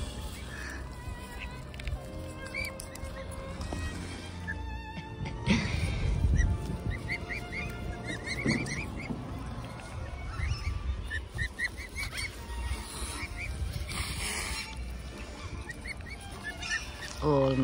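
Geese and swans honk repeatedly in a noisy flock, calls overlapping near and far, with a brief burst of louder honking and flapping partway through.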